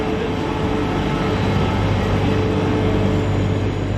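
A steady, loud mechanical roar hums continuously with a low droning rumble, like a washing machine spinning at full speed close by.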